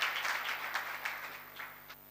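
Faint, soft applause welcomes a poetry recitation, a brief patter of clapping at a distance with a low steady hum beneath it.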